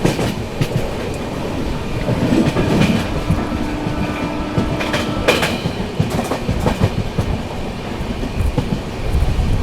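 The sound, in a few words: Karnataka Sampark Kranti Express train running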